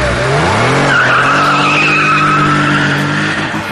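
A car pulls away loudly with tires squealing and the engine revving up in rising pitch, then holding a steady strained drone.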